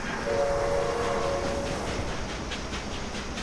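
A train rolls past in a video game with a steady rumble and clatter and a sustained horn tone early on. It is fairly loud and nobody speaks.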